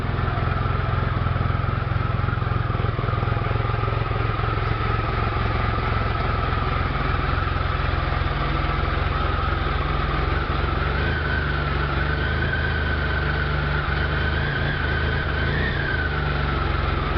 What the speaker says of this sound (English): So I'm just letting the bike warm up, and I'll see if it has made any difference.